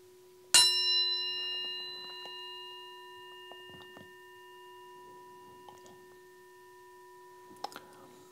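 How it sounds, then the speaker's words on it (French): A single bell struck once for yoga mantra practice, a sharp clear strike followed by a long pure ringing tone that slowly fades, heard alone in a quiet room with faint small noises. "à chaque son de cloche que je vais faire"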